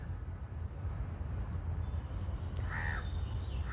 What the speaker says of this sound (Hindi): लेकिन पक्षी के नाम पर यहाँ पर सिर्फ एक कौवा की आवाज़ आ रही सुनने के लिए